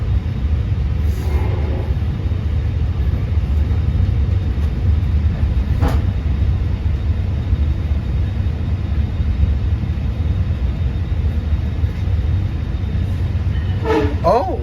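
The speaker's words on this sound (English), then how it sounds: "Oh, there's train 659." A Long Island Rail Road train rumbles past loudly and steadily, with brief horn blasts and a faint voice near the end.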